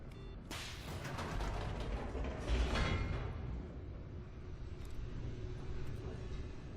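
A large door mechanism in The Stanley Parable video game opens with a rumbling, whooshing mechanical slide that swells midway, then settles into a low, fading hum.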